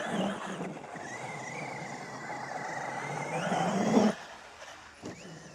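A Traxxas XMAXX RC truck fitted with a MOD1.5 gearset drives laps, its electric motor whining steadily at moderate distance, rising in pitch before cutting off abruptly, followed by quieter stillness.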